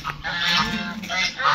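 Geese honking loudly and close in a small backyard mini zoo, a sustained nasal chorus of overlapping calls with short dips between.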